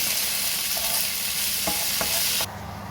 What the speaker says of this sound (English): Cook and stir that for about another minute.